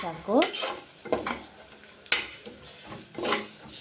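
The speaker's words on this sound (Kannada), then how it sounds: "ತೆಂಗಿನಕಾಯಿ ಹಾಕ್ಕೊತಾ ಇದ್ದೀನಿ. ಒಂದು ನಿಮಿಷ ಸುಮ್ಮನೆ ಫ್ರೈ ಆದರೆ" Grated coconut and cashews fry in a pan and are stirred in a few distinct bursts of spatula scraping over a soft sizzle. Metal clinks sound close by.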